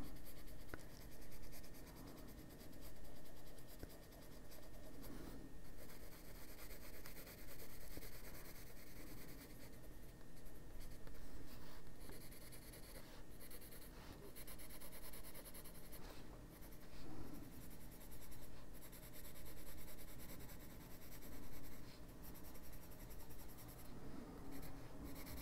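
Colored pencils scratch and rub across the paper of an adult coloring book, a continuous papery scribbling with rhythmic strokes and brief pauses, close and steady without any voices.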